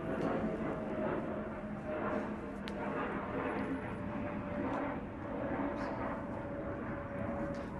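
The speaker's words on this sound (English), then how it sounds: "You're going to hear airplanes constantly right now." Airplanes taking off from a nearby airport roar in a continuous, loud, broadband drone that holds steady throughout, with no breaks.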